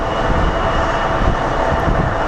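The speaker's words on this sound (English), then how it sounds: "737, most produced aircraft" Boeing 737 airliner at Sky Harbor airport, a loud broadband engine roar that stays steady and close, with no voices over it.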